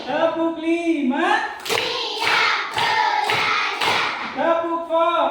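Five crisp hand claps in a quick, steady rhythm from a counting clap game during a school lesson, with a voice speaking before and after the clapping.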